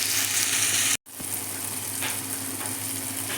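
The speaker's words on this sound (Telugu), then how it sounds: "కొంచెం ఈ టమోటా మగ్గనిక మనకు ఒక 3-4 నిమిషాలన్నా పడుతుందండి." Tomatoes with cluster beans and fenugreek leaves sizzle steadily in a pan, a close, even frying hiss that briefly drops out once, then returns with faint stirring.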